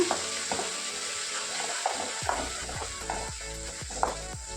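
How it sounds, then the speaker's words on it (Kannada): Ginger garlic paste frying in a pan, a steady close sizzle with repeated scraping stir strokes and small clinks of the utensil against the pan, no voices. "ಚೆನ್ನಾಗಿ ಫ್ರೈ ಮಾಡ್ಕೊಬೇಕು ಶುಂಠಿ ಬೆಳ್ಳುಳ್ಳಿ ಪೇಸ್ಟ್ನ"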